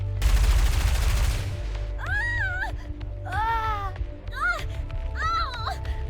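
Experimental suppression rounds fired in the NIKKE video game, a short loud burst of rapid gunfire at the start, followed by high, pitched character vocal cries.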